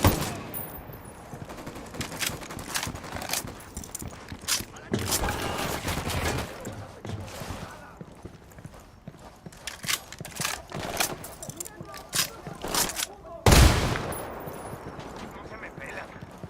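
Bursts of automatic gunfire and single shots from a firefight in Ghost Recon Wildlands, crackling at close and middle range. A sharp loud blast comes near the end, and voices shout over the shooting.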